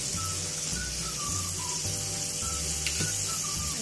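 Crispy chicken half moons frying in a pan of oil, a continuous loud close sizzle and crackle with a faint brief clink near the end, no talking.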